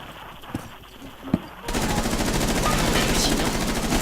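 Video game gunfire: faint clicks and a couple of thuds, then a sustained rapid automatic burst that continues steadily at close range, with a voice faintly present underneath.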